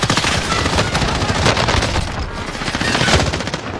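Loud, rapid automatic gunfire in a shooter video game, sustained overlapping bursts and booms filling the whole stretch, close and intense, with a voice barely present beneath.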